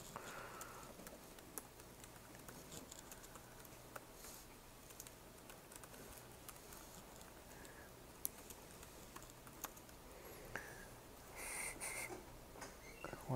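Faint, steady keyboard typing at a laptop during a short course lecture on high performance linear system solvers, a soft scatter of key taps heard from a distance in a quiet room.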